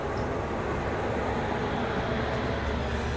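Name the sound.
Shantiniketan Express train leaving Howrah station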